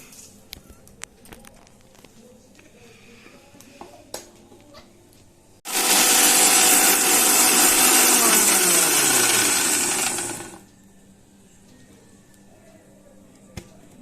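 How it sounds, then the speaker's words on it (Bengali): An electric mixer grinder roars loudly for about five seconds as it grinds roasted spices for aloo dum, starting abruptly and winding down, with quiet kitchen clicks and taps before and after. "এগুলো এবার গরম হলে আমি মিক্সিতে বেটে নেব"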